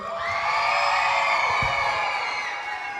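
Wrestling show crowd cheering and whooping, a sustained wall of shouts and high whoops from many voices, loud and continuous with one brief thump partway through.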